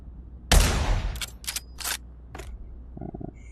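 Several WW2-era gunshots ring out at a shooting range in the VR game Pavlov VR: one loud, reverberant blast followed by a few sharper, spaced shots, then a soft electronic beeping near the end.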